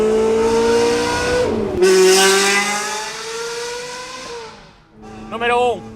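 A Ferrari 360 engine revs hard inside a tunnel. Loud sustained harmonics climb and fall over several seconds with a sharp throttle blip near the end, and the tunnel makes the sound echo.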